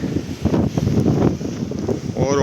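Gusty wind buffets the microphone at Keflavik, Iceland, during a storm alert, a loud rumbling roar that rises and falls unevenly, close and blustery.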